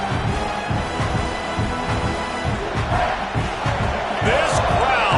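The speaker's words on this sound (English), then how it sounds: "This crowd, full throat, splitting the eardrums" A stadium crowd in a college football video game roars as one dense, steady wall of noise, swelling louder near the end, with a commentator talking over it.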